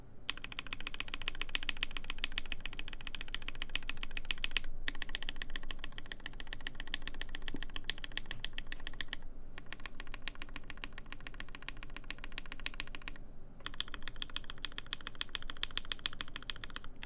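Rapid, even typing on a Satisfaction75 mechanical keyboard with lubed switches, producing dense, soft, muffled key clacks in continuous bursts, close up, with a few short pauses between runs.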